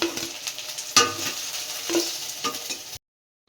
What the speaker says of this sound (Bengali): পকোড়াগুলো কিন্তু আমার ভাজা হয়ে গেছে এবার এগুলোকে তুলে নিচ্ছি